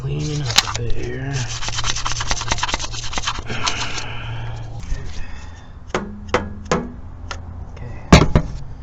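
Cleaning around the intake area of a 2000 Jeep Grand Cherokee 4.0L during an intake gasket replacement: close rubbing and scraping strokes, then sparse taps and knocks with a sharp clank near the end.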